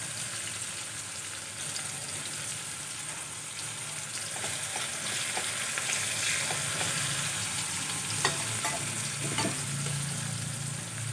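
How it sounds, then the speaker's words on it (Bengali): Onions sizzling steadily as they fry in a pan for a Bengali hilsa fish curry with taro, potato and eggplant, with scattered clinks and scrapes of stirring near the end and no talk. "পেঁয়াজটা হালকা করে ভেজে নিয়েছি।"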